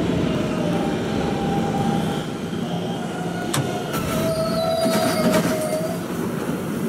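An express train runs in a Roblox train-driving game, giving a steady loud rumble of wheels on track with a high squeal and some clicking, continuous throughout.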